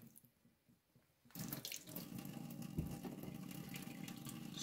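A tap turns on and water runs steadily into a sink to wet a cotton wool ball for polishing shoes, starting after a quiet second and continuing close and constant.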